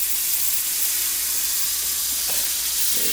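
A ham and cheese toastie fries in hot butter in a pan inside a motorhome, giving a steady, close, even sizzle and hiss throughout with no talking.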